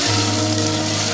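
Dried plums frying in a pan for chicken handi, giving a steady, close, continuous sizzle with a low hum beneath it and no talking.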